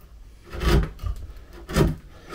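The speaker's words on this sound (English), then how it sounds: "And that nice sharp chisel will clear it out." A sharp chisel pares out oak to seat a brass hinge for a farmhouse oak door: two close, scraping rasps of wood being shaved, with a softer scrape between them and a fresh one starting at the end.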